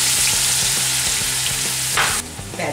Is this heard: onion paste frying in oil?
yes